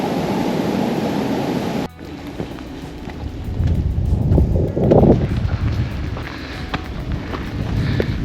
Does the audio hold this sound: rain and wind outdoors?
yes